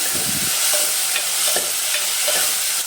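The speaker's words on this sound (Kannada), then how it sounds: "ಹಿಚ್ಚಿದ ಬೇಳೆನ 1-2 ನಿಮಿಷ ಚೆನ್ನಾಗಿ ಫ್ರೈ ಮಾಡಬೇಕು" Peeled hyacinth beans fry with onions in a pan, a constant close sizzle punctuated by several soft scraping stirs, with no voices present.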